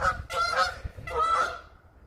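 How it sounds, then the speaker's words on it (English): Geese honk loudly in two close bursts of harsh, nasal calls, with a brief pause between them and no talking. "Geese."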